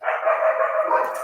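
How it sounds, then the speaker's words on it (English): Dogs bark close by with a dense, continuous run of loud barks and yips that fills the whole moment. "There's the dogs."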